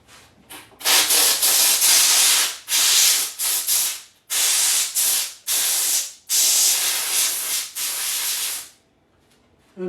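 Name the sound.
steam cleaning a silver coin round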